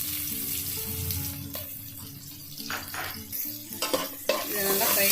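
Chopped onions fry in a pan for a Kolkata-style aloo chicken biryani, giving a steady close sizzle with scraping stirs that grow busier toward the end, over a faint low background hum.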